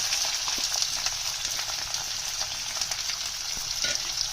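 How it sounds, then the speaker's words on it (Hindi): Onions frying in hot oil in a kadhai give a steady, close sizzle with crackling and occasional stirring scrapes, with no voices. "अब ये कढ़ाई में ऑयल गर्म हो चुका है तो पहले हम प्याज डालेंगे"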